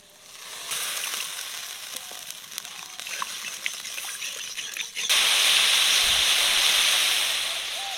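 Water poured onto hot spice paste with cashew paste and green chillies, preceded by a low crackling fry, then a sudden loud hissing sizzle that holds for a few seconds and slowly eases.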